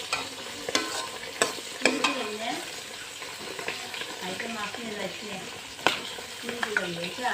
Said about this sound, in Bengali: এখানে মাছের ডিম ভাজা হচ্ছে